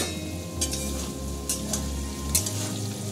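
Ginger and garlic paste fries with potatoes in a pan, a steady close sizzle under a low hum, with a few short scraping stirs.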